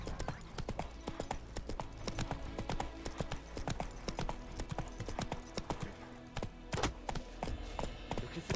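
Geralt's horse Roach trotting in The Witcher 3, a dense, continuous clatter of hoofbeats close by, steady and fairly loud throughout with only faint background ambience.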